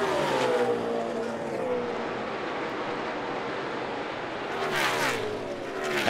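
NASCAR stock cars roar around the track at the Alsco 500, a loud continuous engine drone with rising and falling pitch as cars pass, the sound swelling again near the end.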